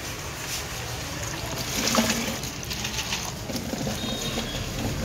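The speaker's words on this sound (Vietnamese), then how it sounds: "Xả nước." Running tap water rinsing silver jewellery during a cleaning and brightening process, a steady broadband splashing rush that holds evenly throughout with a slight swell near the two-second mark, no voices.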